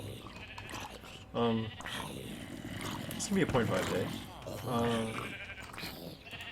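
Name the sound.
sheep bleating in video game Minecraft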